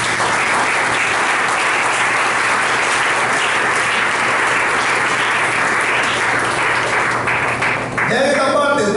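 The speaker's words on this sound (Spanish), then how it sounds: "un fuerte aplauso al Señor" A church congregation at a Pentecostal evangelical service applauds loudly and continuously in a reverberant hall, with crowd voices mixed in and the clapping thinning out near the end.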